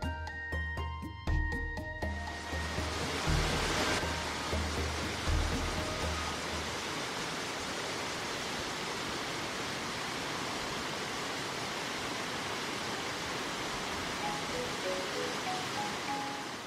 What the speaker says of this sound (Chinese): 远远望见瀑布，就好像从陡峭的山崖挂下来的一条河川